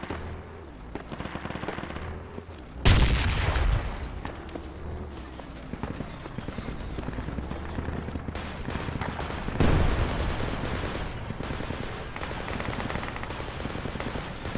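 An APC fires in Project Reality, its heavy gun rattling in repeated bursts amid ongoing battlefield gunfire, with two loud booming impacts standing out.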